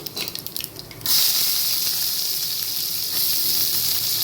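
Chopped onion and urad dal hit hot oil with a sudden loud hiss that stays steady and bright, following a few seconds of quieter kitchen clatter.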